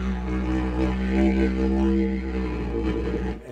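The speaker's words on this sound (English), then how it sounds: "your tongue up and side down and your mouth, you make different sounds like this." A PVC pipe didgeridoo drones steadily and close, its low buzzing tone shifting in timbre as the tongue and mouth move.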